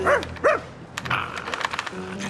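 A cartoon dog gives two quick, loud barks close by, followed by a spell of clattering, typing-like taps under light background sound.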